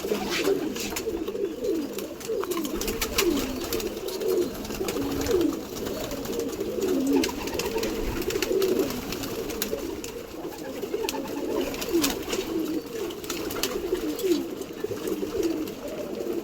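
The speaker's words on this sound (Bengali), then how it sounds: "পায়রা দেখতে পাচ্ছেন কত সুন্দর ফুরফুর করছে" Pigeons cooing steadily in a loft, overlapping low coos repeating throughout at moderate loudness, with no talking.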